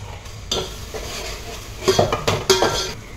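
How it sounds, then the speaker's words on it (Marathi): Prepared spice masala goes into hot oil in a pan and is stirred, giving a faint sizzle under close scraping and clinking of a spoon against the pan, with louder knocks toward the end and no talking. "आणि आता मी हा मसाला तयार केलेला आहे ते टाकते"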